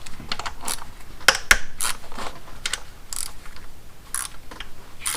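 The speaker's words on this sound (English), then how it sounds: "Quarter-inch ratchet." A quarter-inch ratchet with a 10mm socket removing nuts during spark plug replacement on a 2003 Honda Accord, quick clicking pawl bursts with metallic taps, close and steady, no voices.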